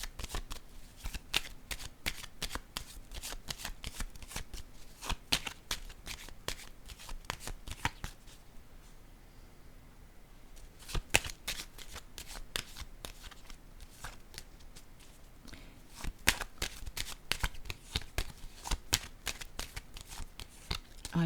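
Tarot cards being handled and shuffled: a steady run of crisp riffling slaps and flicks that continues for most of the stretch, briefly easing to a softer lull partway through before the rapid card clicks resume, with no talking.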